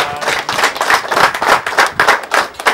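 An audience at a family home gathering claps to honor a guest, the hand claps landing in loose rhythmic bursts, close and lively, with no one talking.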